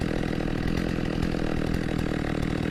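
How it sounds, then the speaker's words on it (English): A chainsaw runs loud and close with a steady, buzzing two-stroke snarl that holds constant throughout, with no other sounds. "chainsaw"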